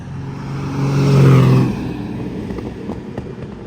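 A Lamborghini Miura's engine swells as it drives closer, a deep rumbling note rising to a peak and then settling into a steady idle hum nearby.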